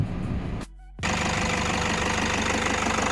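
Four-cylinder 3.0 D4D diesel engine of a 2018 Toyota Commuter van running at idle, a loud steady knocking rumble that breaks off briefly, then resumes close up.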